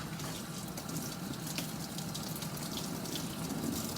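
Water runs steadily from a salon sink sprayer while hair is rinsed, a constant close hiss and splash with no breaks.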